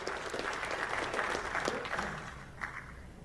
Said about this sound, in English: Give yourself a round of applause for that, because you guys did it.